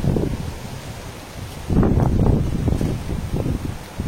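Strong wind blows outdoors in Rayagada, Odisha, with gusts that buffet the microphone and swell into a louder rush about halfway through.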